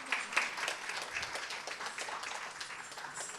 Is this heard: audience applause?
yes